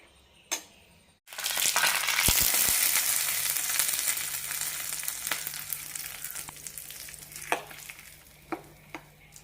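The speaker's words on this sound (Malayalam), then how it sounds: "ഇനി ഇതിലേക്ക് കടുകും കറിവേപ്പിലയും താളിച്ചിടാം" Mustard seeds and curry leaves hit hot oil for tempering a chutney, setting off a loud crackling sizzle that fades gradually, with a few sharp pops and clinks near the end.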